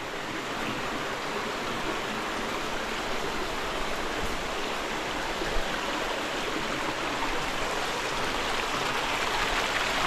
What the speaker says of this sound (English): a beautiful cascade inside the cave